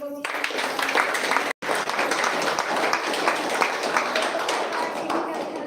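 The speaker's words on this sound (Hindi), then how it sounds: "तो जोरदार ताली आप सभी लोगों की" Meeting audience giving loud, sustained applause, a thick continuous patter of many hands with a momentary dropout early on and voices mixed in underneath.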